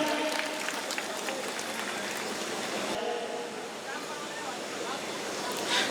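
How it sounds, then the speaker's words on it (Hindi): Crowd applause at a BSP political ticket announcement rally in Purkazi, Uttar Pradesh, dense clapping that carries on for several seconds, with a slight dip partway through and voices mixed in. "तो जोरदार तालियां फिर बजाएं बहन कविता देवी के लिए"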